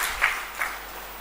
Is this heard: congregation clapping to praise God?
yes